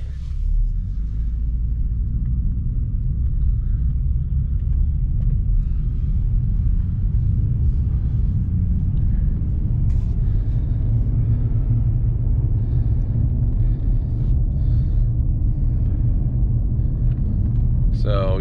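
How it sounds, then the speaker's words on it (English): A Nissan Frontier pickup with a 4.0 V6 engine drives around the block, giving a steady low road rumble from inside the cab. People talk faintly over the noise throughout. "We're just gonna drive around the block."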